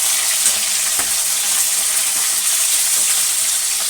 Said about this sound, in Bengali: এদিকে দেখো আমি মাছ ভাজা বসিয়ে দিয়েছি। এখন মাছটা ভাজা হচ্ছে